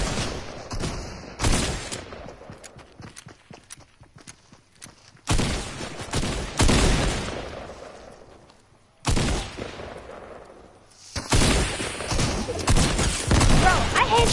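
Gunfire in a shooter video game comes in loud bursts separated by quieter stretches, with rapid shots and heavy booms stacking up, some sharp single reports between volleys.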